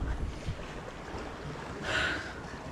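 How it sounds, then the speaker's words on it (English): Sailboat under way at sea in light, dropping wind, with faint, quiet water rush and wind noise on the microphone and a soft swell of splashing near the end. "We are sailing."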